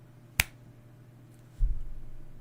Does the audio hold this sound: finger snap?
yes